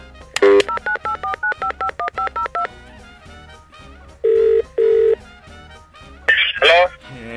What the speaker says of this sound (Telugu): 10-11 సార్లు కొడుతున్నా పొద్దు నుంచి ఏం కలవట్లేదురా ఇది.